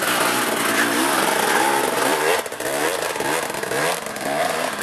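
A 300 engine, loud and close, revving hard as the throttle is opened, a sustained raspy high-pitched roar that briefly dips midway before climbing again.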